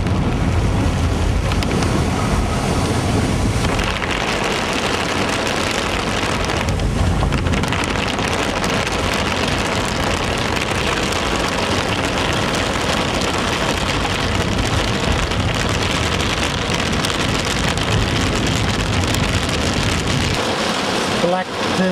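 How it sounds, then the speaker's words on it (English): Heavy rain pounds steadily on a car during a storm chase, a dense, loud roar with wind mixed in that continues unbroken for the whole stretch. "That's where this rain's coming from."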